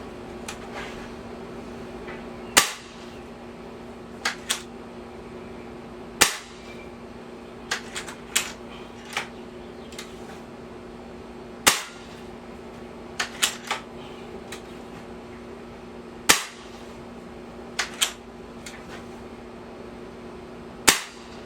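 Winchester 850 XS22 break barrel air rifle firing 11.9 grain hobby pellets, a series of sharp, near cracks spaced a few seconds apart with fainter mechanical clicks between shots over a steady low hum.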